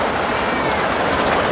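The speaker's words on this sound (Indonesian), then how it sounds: "suaranya kemerusuk karena hujan deras ya" Heavy rain with wind in a village setting, a dense steady hiss and patter filling the whole moment without pause, loud and close, with no voices.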